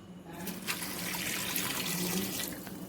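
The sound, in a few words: water added to pressure cooker for rajma masala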